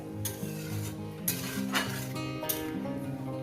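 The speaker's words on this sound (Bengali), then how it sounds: "এটাকে আমি প্রায় দু তিন মিনিট ধরে মিডিয়াম গ্যাসে কষিয়ে নেব" Fish curry masala with mukhi kochu fries on a medium flame, a soft steady sizzle broken by a few quick stirring scrapes and light clinks of a spoon against the pan.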